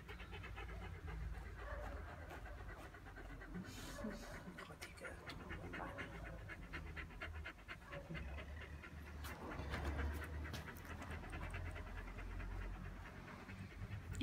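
Small, short-haired chihuahua panting close by in quick, steady breathy puffs, running continuously beneath soft voices talking nearby.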